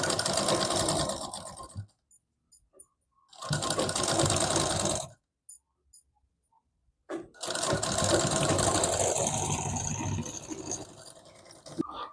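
Sewing machine runs stitches on a double katori blouse in bursts of steady rapid whirring, stopping twice with faint clicks and handling noise between runs.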